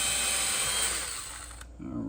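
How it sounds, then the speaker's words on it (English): A drill with a small 1/8 inch bit bores a hole while a roller shade is installed at home, giving a steady whirring hiss that cuts off abruptly near the end. "All right, so I'm using a small 1/8 inch drill bit."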